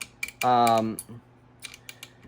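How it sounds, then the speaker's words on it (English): Screws on an AKM rifle's railed dust cover mount are torqued with a wrench, giving a short, close ratcheting, creaking burst followed by scattered light metallic clicks and taps. "Now, when I apply the final torque, it's going to be hand tight"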